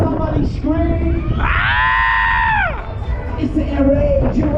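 Riders on the Air Raid fairground ride at Newcastle Hoppings scream together in one long, loud, rising and falling shriek over crowd noise and shouting, heard close up from on the ride.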